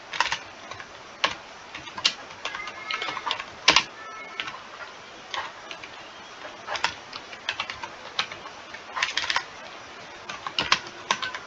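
Keystrokes on a new computer keyboard, a steady run of sharp clicks in irregular bursts with short pauses, close and fairly quiet, with no talking over them.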